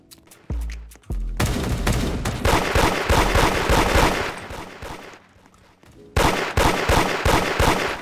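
Rapid gunfire in the Roblox-style shooter game Da Hood crackles in loud, dense bursts, broken by a brief lull before another volley of quick shots.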